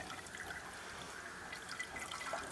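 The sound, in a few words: leaf-infused water being strained through a cloth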